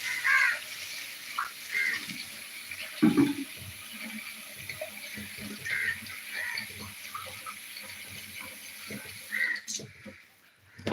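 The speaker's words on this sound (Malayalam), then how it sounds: "ഇത് നമുക്ക് കൂടെ വെള്ളത്തിൽ കഴുകണം നന്നായിട്ടൊന്ന് കഴുകണം" Food ingredients for a fish fry and lentil curry are rinsed under a running kitchen tap, giving a steady wash of flowing, splashing water with small clatters and a crow cawing faintly outside.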